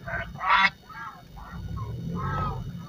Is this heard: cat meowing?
no